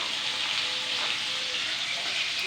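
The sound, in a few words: onions frying in oil in a kadai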